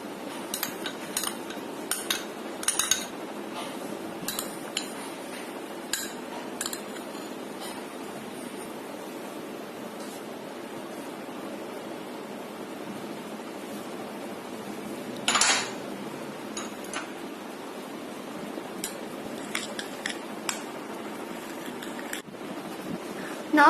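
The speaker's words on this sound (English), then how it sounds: "For marination, mix all the ingredients in a bowl." Utensils clink and scrape against a bowl while paneer marinade ingredients are mixed, with repeated light tapping and stirring knocks at close range and a few sharper clanks.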